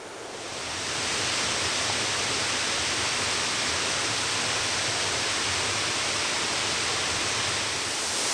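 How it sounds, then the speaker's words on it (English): A steady, dense roar of falling water from a waterfall, broad and hissing, loud and continuous with no talking. "Okay, this is actually a surprisingly beautiful waterfall."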